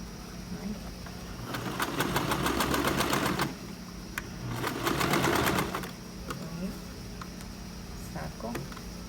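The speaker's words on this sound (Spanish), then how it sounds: "y voy cosiendo" A sewing machine stitches a shirt collar in two steady bursts of rapid mechanical clatter, with quieter gaps and soft handling noises between them; the sound is close and clear.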